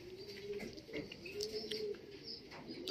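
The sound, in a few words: racing pigeons cooing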